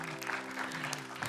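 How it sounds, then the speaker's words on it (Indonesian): An audience at an Indonesian religious preaching competition on a TV show claps briefly and faintly, with a steady hum beneath it. "Kasih tepuk tangan dulu dong."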